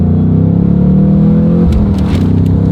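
Ford Mustang Mach 1 pulling out of a corner under full throttle, its engine a loud, steady low roar close by from onboard, with a brief shift or change in note partway through and no talk.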